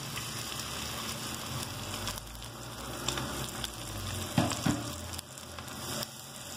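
Garlic frying in a pan for a soup, a continuous, fairly quiet crackling sizzle, with a couple of soft stirring scrapes and no talk.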